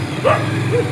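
Dogs scuffle in a market street with a sharp yelp and a shorter whine over a loud, steady background rumble.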